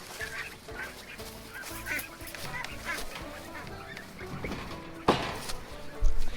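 Buff ducklings peeping and calling in a pasture by a pond, a busy overlapping chorus of small fowl voices with rustling, and a louder bump near the end.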